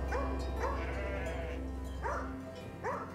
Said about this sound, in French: j'ai des brebis et des chèvres pour la viande